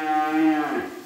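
A Limousin Cross cow at a cattle market lets out a single loud, close moo, a drawn-out tonal call that fades at the end.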